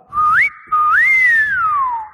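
A person whistles two rising catcall-style notes, the second a long swooping tone that slides up and then glides slowly down, loud and close with no talk.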